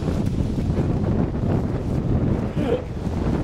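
Strong wind buffets a microphone outdoors under stormy clouds, a steady loud roar of gusts with low rumbling that persists throughout without pause.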